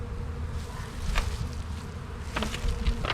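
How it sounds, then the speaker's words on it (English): Honeybees buzz steadily around a packed hive during a spring split, a dense continuous hum with individual bees zipping close by, no talking. "This hive is just packed full of bees as that one was."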